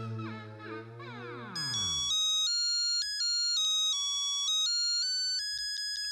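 A telephone rings with an electronic tone while a call goes out to the fire brigade, a repeating melodic pattern of steady notes that follows a short burst of other sound at the start.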